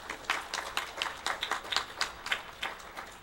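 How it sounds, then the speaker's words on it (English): A live audience at a weekly satsang gathering gives a brief round of applause, a moderately loud patter of clapping with many hands striking fairly evenly throughout. "He deserves the biggest round of applause."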